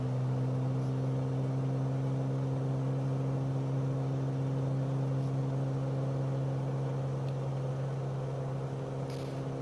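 A propeller aircraft engine at full throttle and 100% propeller RPM in Microsoft Flight Simulator 2020, a steady, loud, droning hum that holds unchanged throughout, with no talking.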